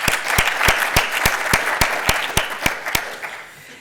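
Audience at a scientific society business meeting in Honolulu claps, a fairly steady round of applause from a modest crowd that tapers off toward the end.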